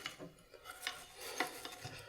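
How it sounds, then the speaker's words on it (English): A small brush scrubs solvent around the trigger and hammer area of an AR-15 lower during cleaning, making faint, irregular scratchy rasping strokes close by with no talk. "I'm going to hold the hammer down, let the trigger go, and I'm just going to scrub around here."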